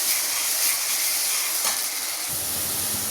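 Onions fried in hot oil for a Kovai fish curry give off a steady, bright sizzle and hiss. A low rumble of added ingredients enters partway through, and the sizzle stays loud and close the whole time.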